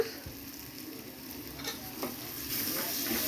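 Tomatoes stirred into a hot cooking pan make a soft, steady sizzle with faint scraping of the spoon, the sound rising slightly louder toward the end.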